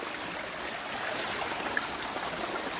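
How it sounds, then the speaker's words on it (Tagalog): A small forest stream flows steadily, a soft continuous wash of trickling water close by with no talk over it. "Ayan, munting sapa siya guys."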